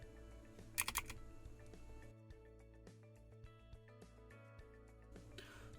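A few quiet key presses on a computer keyboard, a Ctrl Alt Space shortcut for the Windows 10 magnifier, faint under soft steady background music.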